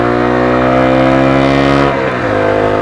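A Derbi Senda Baja motorcycle engine holds a steady, loud buzzing drone, then bogs down and drops in pitch near the end, struggling and uneven, close up with no talk.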